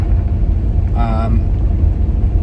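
A mechanic's van drives around a yard with a steady low engine rumble, loud and close, and a brief tonal whine or horn-like note in the middle.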